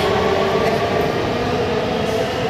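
Loud, steady rumble of a metro train running continuously, a dense mechanical roar with no voices.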